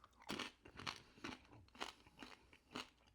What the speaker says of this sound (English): I love the pork crackling.